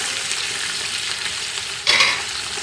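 Shallots, curry leaves, garlic and green chili sauté in a pan for a fish curry, giving a steady close sizzle and crackle, with a brief louder burst of hissing near the end.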